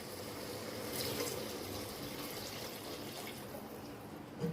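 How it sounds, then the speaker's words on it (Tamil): Measured water, about one and a half glasses, is poured into a pot of vegetable biryani with rice, dal and curd in a home kitchen, giving a steady, continuous splashing pour with no voices. "தண்ணி அளந்து ஊற்றுக்கலாம்."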